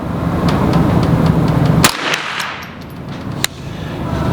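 Gunshots at an outdoor shooting range, fired over a Garmin Xero C1 Pro chronograph: two sharp reports, about a second and a half apart, cut through loud, steady background noise.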